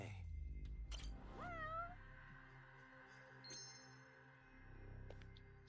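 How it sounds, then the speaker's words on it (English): A stray cat meows in the video game Judgment, a clear drawn-out cry with a rising then falling pitch, followed by softer chirpy calls over a quiet game background hum. "Stray cat."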